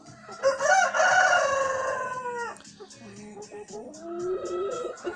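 A rooster crows loudly and close, one long strained call lasting about two seconds, followed by softer clucking and low fowl sounds.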